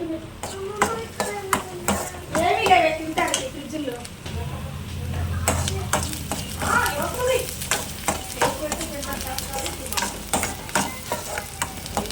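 Onions for masala dosa sizzle and crackle as they fry in a pan, with stirring clinks and scrapes, all heard close under a person talking.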